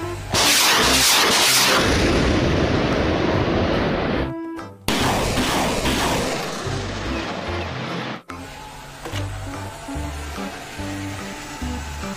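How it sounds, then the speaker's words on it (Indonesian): Toy rocket launcher truck noises: a loud burst of electronic firing and booming effects, a short clicking pause, then more blasts fading into quieter toy sounds. "mobil peluncur roket"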